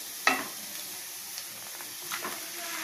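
Bitter gourd and potato frying in a pan as tomato is added, a soft steady sizzle with a sudden brief hiss burst at the start and a few scraping stirs later, quiet and close.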